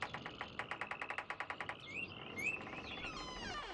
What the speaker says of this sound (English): the birds are still too damn loud